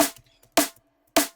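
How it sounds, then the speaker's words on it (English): Three sharp layered snare hits for drum and bass, a high-passed noisy sample adding bright hiss over the snare body, evenly spaced and fairly loud with quiet gaps between. "all I wanted was this little hiss, this like noisy part of the top"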